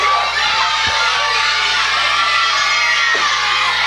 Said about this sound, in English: you can hear the resounding of boos from this crowd